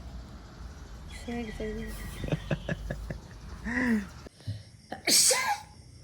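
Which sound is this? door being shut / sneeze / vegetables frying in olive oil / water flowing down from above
sneeze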